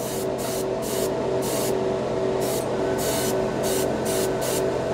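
Paint spray gun running at high air pressure, a steady close hiss with rapid on-off bursts of loud spraying as the trigger is worked, no voices over it.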